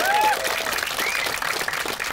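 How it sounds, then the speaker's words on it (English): Sustained applause from an audience at a film Q&A with the director, heard up close from the room as a dense, even wash of clapping for a couple of seconds, with a brief whistle near the start. "I'm going to hold up my mic so Mary can hear your applause."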